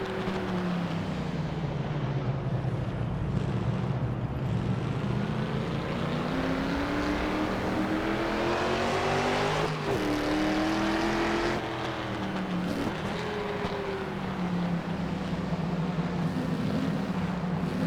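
A 1966 Shelby Mustang GT350R racing car circles the Marlboro track. Its engine drones loud and steady throughout, with the pitch rising and falling through gear changes and speed shifts, and no voices are heard.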